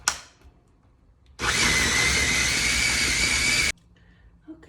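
A food processor or blender grinding chickpeas into thick hummus runs loudly for about two seconds with a steady motor whine, preceded and followed by quiet kitchen sounds.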